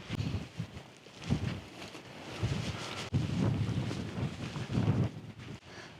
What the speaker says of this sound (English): So the wind's picking up a little bit.